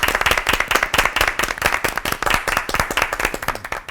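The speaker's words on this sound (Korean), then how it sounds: "박수로 맞아주세요." A studio audience at a Christian TV worship programme gives dense, continuous applause to welcome two pastors, with many hands clapping quickly and loudly for several seconds.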